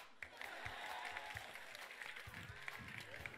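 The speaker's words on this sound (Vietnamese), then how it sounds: "Vỗ tay." Crowd applause at a hip-hop call-out battle event, a steady faint wash of clapping with some crowd noise and a voice mixed underneath.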